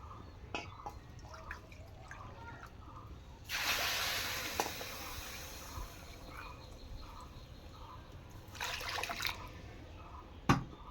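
Water poured from a small bowl into a pot for making sugar syrup for sweet potato langcha, a soft splashing pour in two bursts with drips and light clinks between, fairly quiet and close.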